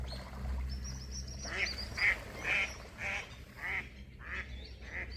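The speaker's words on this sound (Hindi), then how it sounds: "देखो कितने जंगली पक्षी।" Wild birds in a village countryside give a run of about seven loud, honking, duck-like quacks spaced roughly half a second apart over a low background hum, with no voices.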